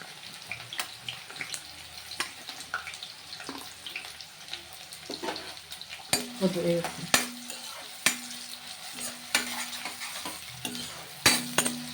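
Onions fry in oil in a pot for a chicken curry, giving a soft sizzle under repeated scraping and clinking stirs, with a few sharper metallic knocks close by and no voices.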